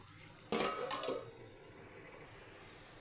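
A lid set onto a pan of frying chicken, one brief metallic clatter and rattle up close, then quiet with a faint tap.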